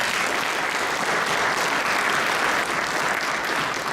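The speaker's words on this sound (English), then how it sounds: "Please give him a nice round of applause." An audience at a 2017 inauguration ceremony applauds for a newly introduced official, with dense, steady clapping that stays loud and even throughout.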